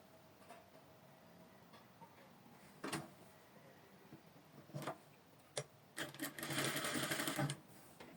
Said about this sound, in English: So I'll take it to my weaving machine, I'll go and weave it out